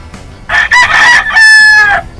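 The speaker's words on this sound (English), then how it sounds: "This next pen, this is an Albany rooster." An Albany rooster crows once, loud and close, with a long drawn-out call broken into several rising and sustained segments, heard alone without talk.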